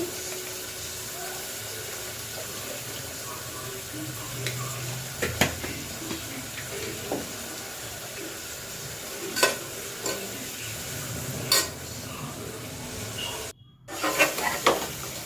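Spicy brinjal curry with turmeric stirred in a pan, a soft continuous sizzle with scattered spatula scrapes and clinks against the pan, growing busier toward the end after a brief dropout.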